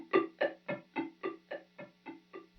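An Eventide H9 resonator Spnlunking delay on guitar repeats a single pitched pluck in about nine evenly spaced echoes, each one slightly softer, under a faint steady hum.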